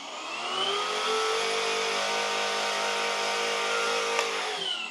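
A Fanttik NB8 Ultra portable pressure washer with a 65-degree nozzle sprays continuously, its motor giving a steady, close, loud whine with a hissing spray over about five seconds.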